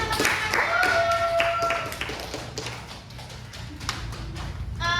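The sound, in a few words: classroom clapping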